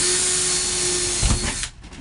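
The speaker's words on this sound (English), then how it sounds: "So we're gonna take a drill with a 1/8 inch bit." A power drill fitted with a 1/8 inch bit whines steadily as it bores into a metal headliner support in a 1964–67 split-window commercial van, then cuts off abruptly near the end.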